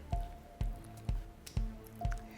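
Mixture for Kayseri yağlaması (şebit) is scraped from a bowl and poured onto the top layer. Five soft, wet squishing thuds land at an even pace, close and moderately loud, with no talking.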